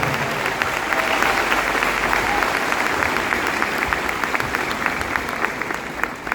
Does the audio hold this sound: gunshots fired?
no